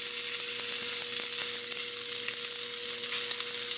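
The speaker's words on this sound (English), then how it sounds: "It is going to sizzle." Food sizzles steadily in a hot pan in a home kitchen, a loud, continuous hiss with faint crackles and no voices.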